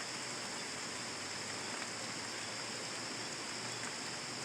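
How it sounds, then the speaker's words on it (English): Steady rain pours down outdoors with water running off a roof, a dense continuous hiss of falling drops and flowing runoff, close and unbroken. "Not sure how visible this rain actually is."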